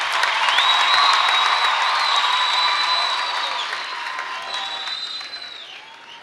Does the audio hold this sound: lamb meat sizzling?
no